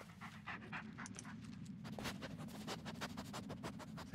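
A dog pants rapidly and steadily in the Blair Witch video game, close and quiet, with quick rhythmic breaths repeating throughout.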